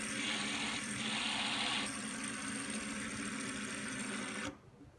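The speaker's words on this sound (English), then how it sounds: "obviously you can do a desk spin. It's gonna be loud, but it's a 608." A steady, loud whirring hum of a brass flat-top fidget spinner with a 608 bearing spinning on a desk, continuous and close, cutting off abruptly near the end.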